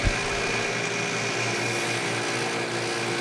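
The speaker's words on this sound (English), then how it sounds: "And then grinding it flat on the belt sander." A belt sander grinds freshly welded steel tabs flat for a Honda CB500F custom motorcycle side cover, producing a continuous loud whirring abrasive drone with a steady hum, close up and without speech.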